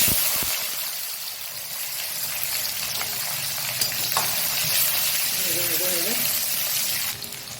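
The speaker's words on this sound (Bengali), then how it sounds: "পেঁয়াজটা দিয়ে দিলাম" Onion frying in a pan after the spices go in, in a puti fish and bitter gourd dish, a continuous close sizzle and crackle with a voice speaking over it near the end.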